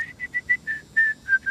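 A person whistles a quick series of short, clear notes: eight or so chirpy tones in an uneven rhythm, close and fairly loud against a quiet background.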